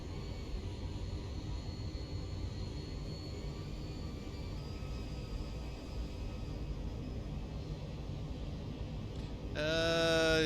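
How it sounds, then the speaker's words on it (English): Jet engine noise from the Zibo 737 in the X-Plane 12 flight simulator: a steady, loud, broadband engine roar holds throughout, and a brighter whine surges in near the end. "The reason being the jet noise."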